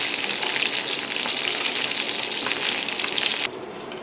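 Chicken pieces for dry chilli chicken frying in plenty of hot oil, giving a loud, steady, close sizzle that drops away suddenly near the end.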